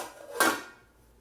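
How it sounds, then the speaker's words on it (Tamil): A metal lid is set onto a pot of simmering sambar with brinjal and drumstick, giving one sharp clank that rings briefly and fades, with no talking. "இப்போ இதை வந்து மூடி போட்டு ஒரு 5 மினிட்ஸ் விட்டுடலாம்"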